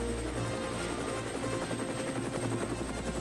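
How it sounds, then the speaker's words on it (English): A helicopter whirs steadily nearby, its rotor giving a continuous, throbbing drone with a low pulsing beat throughout. "Suddenly, there was a strange whirring sound."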